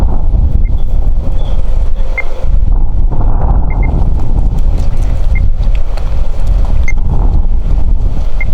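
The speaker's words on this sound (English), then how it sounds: "So we definitely hear a much louder beep there." Outdoors, a Project Lifesaver tracking receiver gives short, faint electronic beeps at a steady interval of roughly one to one and a half seconds. The beeps sit under strong wind buffeting on the microphone.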